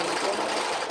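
A sewing machine stitches a fabric strap, giving a steady, continuous close-up whir that runs unbroken for the whole second.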